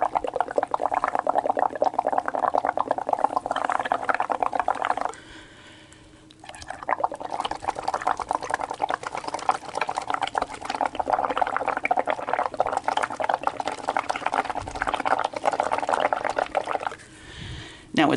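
Someone blows bubbles through purple leather dye in water, making a continuous close bubbling gurgle with one brief pause midway and another near the end.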